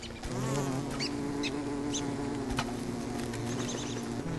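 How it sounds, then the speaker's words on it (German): Bees buzz in the video game Don't Starve, a steady layered droning hum that holds close and loud throughout, with no voice over it. "Meine eigenen Bienen."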